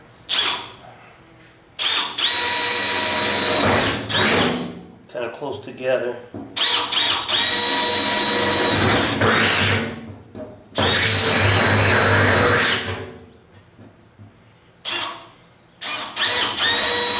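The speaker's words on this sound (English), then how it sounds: "I'm going to go ahead and put a couple of drill marks here" Loud bursts of a power drill whirring as it drills holes into a homemade coffin, in several separate runs, with short pauses between them and a voice speaking briefly in a gap.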